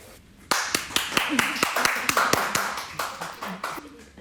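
A small group claps together in a brief burst of applause, sharp close claps tapering off after a few seconds.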